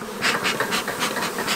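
Honey bees crowd an open hive during a honey flow, their loud close buzzing swelling in quick repeated pulses over a constant hum.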